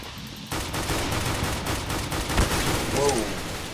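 Rapid bursts of gunfire from a fast-firing weapon in the shooter game Counter-Strike: Global Offensive ring out loud and steady for several seconds, with faint game noise underneath.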